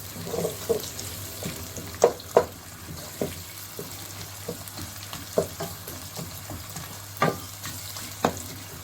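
Food in a pan for a zucchini and mutton mince dish fries with a soft, steady sizzle while a spatula scrapes and clacks at irregular intervals, several sharper knocks standing out, nearby and with no talking.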